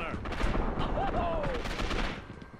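Rapid gunfire crackles through a round of Gotham City Impostors, dense bursts of shots filling the clip with a faint voice mixed in underneath.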